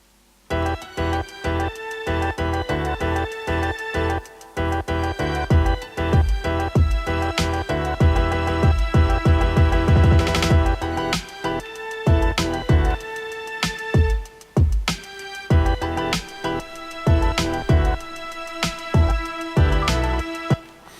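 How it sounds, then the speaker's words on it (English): FL Studio rap beat drum loop built from samples, punchy kicks and snares in a steady pattern over a melodic backing, growing busier with a kick and snare build-up toward the end; loud and continuous with no talking. "some kick build up and snare build up here at the end"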